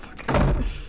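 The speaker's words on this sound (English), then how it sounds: "We were both trying to open the door." A door opens in the Dark Hours video game, a single solid thunk with a brief scraping swing, close and moderately loud with no talk.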